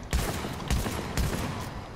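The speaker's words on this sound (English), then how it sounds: "this is a really good shotgun" Three shotgun blasts fire in The Division game, spaced about half a second apart, each a sharp close boom with a short decaying tail, no talking.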